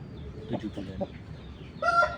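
A seven-month-old rooster clucks softly, then lets out a loud, close crow near the end, over faint background noise.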